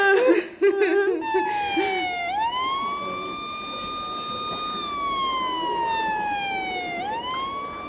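A loud police car siren wails in long rising and falling sweeps in a comedy sketch, after a burst of laughter and voices at the start.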